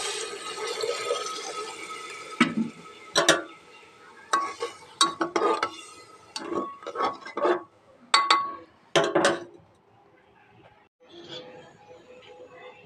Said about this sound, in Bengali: এখানে হালকা করে অল্প একটু জল দেব।